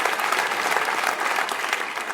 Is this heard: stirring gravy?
no